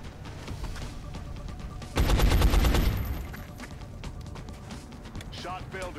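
A loud burst of gunfire from the turn-based strategy game XCOM: Enemy Unknown erupts for about a second over steady game background noise, then fades back to quieter ambience with a voice talking nearby.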